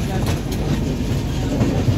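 The Tinsukia-Tambaram Express rolls slowly past Dhekiajuli Road, with a loud, continuous rail rumble and faint clickety-clack of the wheels on the track.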